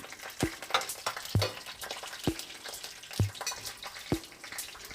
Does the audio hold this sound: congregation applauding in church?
no